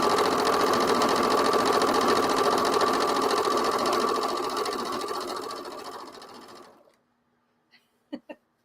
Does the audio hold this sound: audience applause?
no